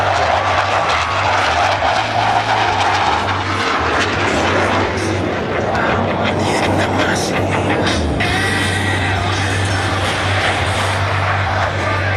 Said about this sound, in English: Blue Angels 5 and 6 are accelerating to 400 miles per hour